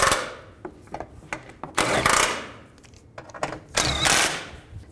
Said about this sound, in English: And tighten these bolts down.